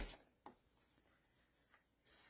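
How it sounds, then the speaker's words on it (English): A few short, soft scraping strokes, close and fairly quiet, as a piece of paper for a stamping project is cut down to 5 by 3 1/4 inches, with brief pauses between passes. "Okay, so I'm going to cut this down to 5 by"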